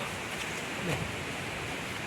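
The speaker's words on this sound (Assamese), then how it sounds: "ধুনীয়াকৈ পানী পৰি আছে, শব্দ শুনিছে চাগে আপোনালোকে" Constant broadband rush of falling water, even and unbroken, like a nearby cascade heard up close, at Rupahi in Gogamukh, Dhemaji, Assam.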